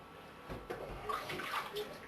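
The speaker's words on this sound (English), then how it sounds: "at this stage we'll just pour a little bit of water in" A little water is poured into a hot roasting pan holding a hogget forequarter halfway through oven cooking, making a short, close splashing trickle that lasts about two seconds.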